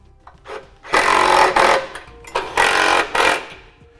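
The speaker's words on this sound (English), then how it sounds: "Now we can torque them down." Ratcheting tool work on the bolts of a Blue Ox base plate being fitted to a 2015 GMC Terrain: two long bursts of rapid clicking and whirring, close and loud, separated by short pauses.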